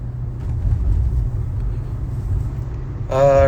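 A car is being driven, and inside it a steady low engine and road rumble holds throughout, close and loud, ending with a brief tonal sound over the hum.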